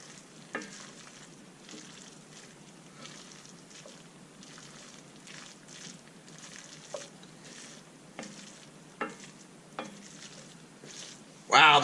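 Risotto with Parmesan being stirred in a pan, a soft continuous sizzle broken by small scraping clicks of the spoon at irregular intervals, close and fairly quiet, with a louder clatter at the very end.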